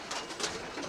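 Male tippler pigeons coo in a small loft kit box. A few soft, rounded coos come up close in quick succession.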